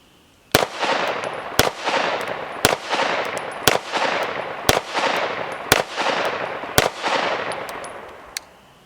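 Ten evenly paced shots from a Girsan 2311 Match X compensated 9mm pistol, each a loud, sharp crack with a ringing tail, fired alone in a steady rapid rhythm.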